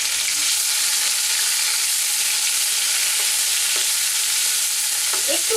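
Finely chopped onion, one large bulb's worth, frying and being stirred in a pan for restaurant-style shahi paneer, giving a steady close sizzle with occasional scraping clinks and no talk.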